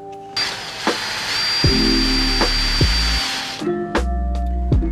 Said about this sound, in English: So we're going to drill a hole here for the switch.